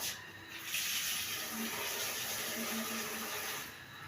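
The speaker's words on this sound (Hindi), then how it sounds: "अभी मैं इसमें थोड़ा सा पानी डालूंगी।" Water poured into a pressure cooker holding soaked mash dal, a steady hissing splash lasting a few seconds, close and fairly soft, with no talking.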